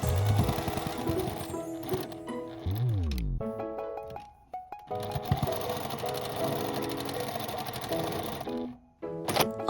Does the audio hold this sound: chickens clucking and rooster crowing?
no